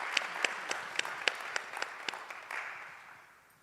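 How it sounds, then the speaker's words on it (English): Audience at a church service applauding, a run of sharp claps building into steady, moderately loud clapping that thins and fades out toward the end. "if you would you clap for my brother as I turn it over to him, Reverend Matthew Williams"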